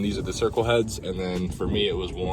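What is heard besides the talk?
No distinct noise like a dog, phone or traffic.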